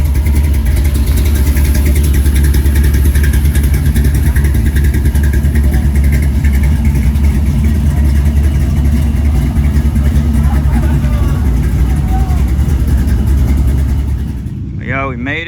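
A Chevy II gasser drag car idles at a car show while warming up, its rumble loud, steady and close. Voices can be heard over it, and the engine noise cuts out near the end.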